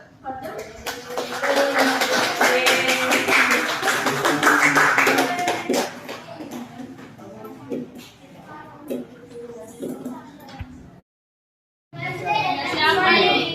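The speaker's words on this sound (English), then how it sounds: "Let's take applause from them." A class of children claps and cheers loudly for several seconds, then the sound cuts out briefly before another burst of noisy activity.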